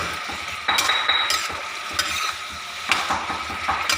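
Food being stir-fried in a pan with oyster sauce, steady sizzle under repeated scraping and clinking strokes of a utensil against the pan, close and fairly loud, no voices.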